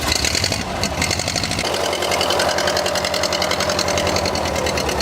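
Original engine of a military vehicle running steadily at idle, a loud continuous mechanical rumble with rapid rhythmic ticking, close by and without talk.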